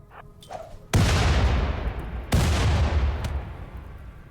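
Two heavy frag grenade blasts in the colony-survival game RimWorld, each a sudden loud boom that rolls off into a long rumbling decay, the second following about a second and a half after the first, with no talk over them.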